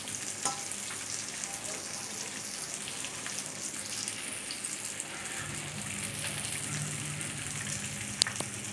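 Sankara fish frying in a pan: a steady, close sizzle of hot oil runs throughout, with occasional crackles and a brief clink near the end, no talking.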